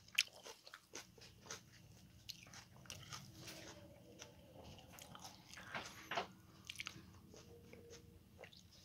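Quiet, close eating of very spicy ramen made with Cheongyang chili peppers and Buldak fire noodles, with soft bites, slurps and chewing scattered through a calm, low background, no talking.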